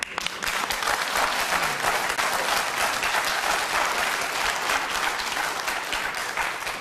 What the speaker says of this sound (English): Interesting to note the applause.